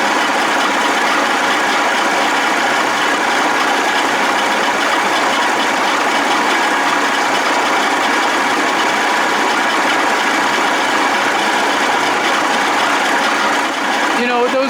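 A 1979 Evinrude 55 hp outboard motor idles steadily with a loud, continuous rough hum and faint knocking, with no break for its full length.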